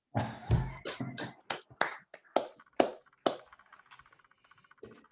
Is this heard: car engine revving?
no